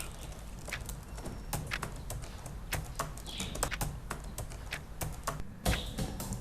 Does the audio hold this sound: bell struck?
no